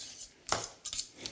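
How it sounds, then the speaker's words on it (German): A utensil clinks and scrapes against a pot while butter is stirred into spaghetti bolognese sauce, two or three short metallic knocks in a quiet kitchen. "jetzt müssen wir diese Butter da drunter rühren"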